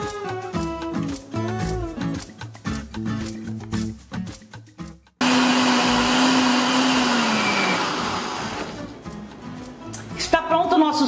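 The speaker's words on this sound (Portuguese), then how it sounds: "Agora é só bater." Blender whirring as it blends a detox juice with mint, starting after a stretch of chopping and kitchen clatter; the motor comes in loud and close and holds steady, dropping in pitch as the mixture thickens, with voices talking alongside.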